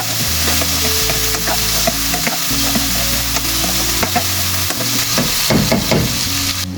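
Softened pork goes into a pan of sautéed tomato, onion and garlic for ginisang sayote, setting off a loud, continuous sizzle with scraping and clattering utensil knocks throughout.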